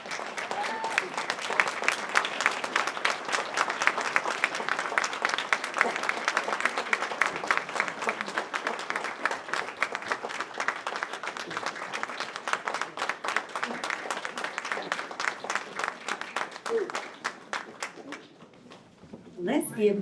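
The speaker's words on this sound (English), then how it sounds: "Let's give Mr. Clark another round of applause." An audience at an award ceremony applauds, a sustained burst of clapping that holds steady for a long stretch before thinning out and fading, with brief voices at the very end.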